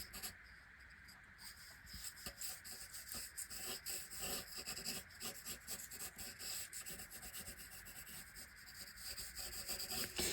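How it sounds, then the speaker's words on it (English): A pencil eraser rubs out a pear drawing on paper with a soft, close scratching sound. The quick back-and-forth strokes are faint and continue steadily for about ten seconds with no talking. "So make sure you're brave, rub out and restart."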